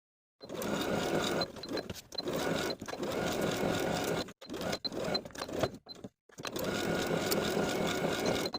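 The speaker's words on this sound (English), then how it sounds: "Sew with a 3/8 inch seam allowance starting at the top edge, pivot around the pocket, and down to the bottom of the skirt" A sewing machine stitches the side seam of a Lutterloh dress skirt, pivoting around the pocket, running in steady loud motor bursts separated by several brief stops.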